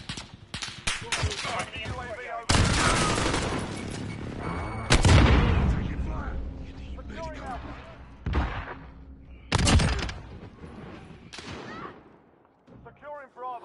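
Gunfire and booming artillery in a PS4 military shooter: repeated loud bursts of shots and heavy blasts over a steady battle din, with brief quieter gaps between volleys.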